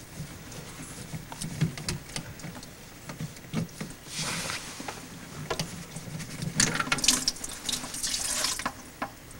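Water drains and splashes out of a removed under-sink P-trap in a kitchen, a faint running trickle with small clatters and a couple of louder gushes.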